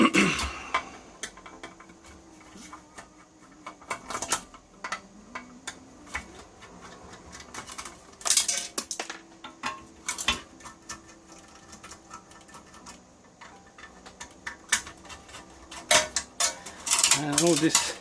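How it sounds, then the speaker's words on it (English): Hand tools taking apart a military test kit, an ARF 250 watt unit: irregular small clicks, ticks and metallic taps of screws being loosened and removed, close up, with occasional louder clatters and no clear talk. "So let me just open it up and take it apart, see what we can see."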